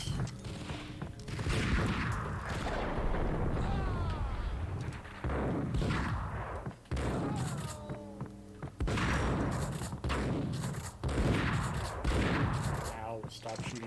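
Gunfire from the video game Max Payne crackles in repeated volleys and bursts, loud, close thumps separated by brief gaps, with a voice talking and reacting over the shooting at times.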